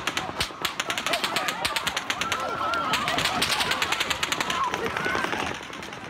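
Rapid bursts of automatic gunfire crackle in long, rhythmic volleys from a distance at the Las Vegas shooting, the shots echoing continuously, with voices and crowd noise mixed underneath.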